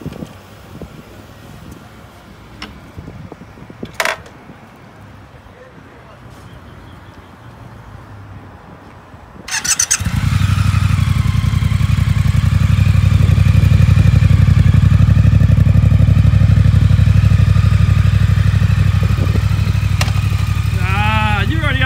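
A Triumph Speed Twin motorcycle rides off after quiet shuffling and voices, its engine bursting in loud and close, then holding a strong steady roar with wind noise.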